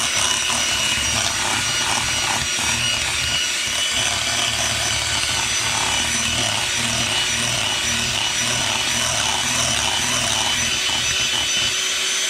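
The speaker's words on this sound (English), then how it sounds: "Turn the mixer back on." An electric mixer beats sour cream into almond butter keto pound cake batter, a steady unbroken whir that runs loud and close for the whole stretch with no pause.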